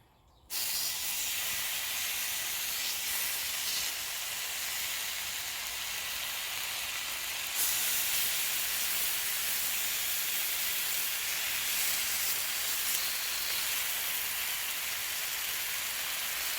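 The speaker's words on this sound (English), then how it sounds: "So let me go ahead and get this bacon on here." Steady loud sizzling hiss of bacon frying on a hot griddle, continuous and close, with no talking.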